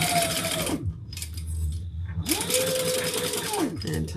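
A sewing machine top stitches a thick fabric waist pack in two steady motor runs, each rising, holding a whirring hum, then winding down, with a short pause between, close and loud, with talking over it.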